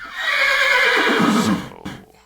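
A horse in the Minecraft Hexxit modpack gives one loud, drawn-out whinny that trails off, with a faint trailing sound after it and no talk.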